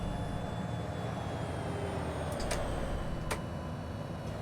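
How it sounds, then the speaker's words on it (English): Steady engine and transmission drone from a bus in OMSI 2, Berlin X10 route, driving quickly; a continuous low rumble with a faint high whine line held throughout, plus a couple of brief sharp clicks near the end. "Listen to the engine transmission as it whines."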